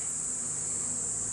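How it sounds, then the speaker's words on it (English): Nurse honey bees cluster around a caged queen, giving a steady, even insect buzz that holds without break through the short moment. "I've caged her with a bunch of bees"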